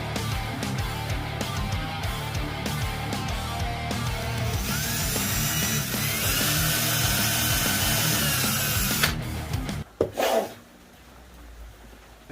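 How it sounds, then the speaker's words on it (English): A power drill whines and grinds as it pre-drills holes in white oak, running steadily for several seconds before stopping abruptly, followed by brief clatter. "while I pre-drill these holes"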